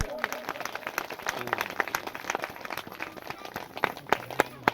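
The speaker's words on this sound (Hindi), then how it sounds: "एक बार जोरदार तालियां" An audience at a religious katha gives dense applause, many hands clapping rapidly and unevenly in a close, lively burst over a crowd murmur.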